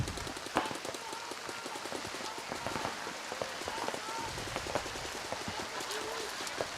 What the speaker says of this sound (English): You can hear the rain in the background.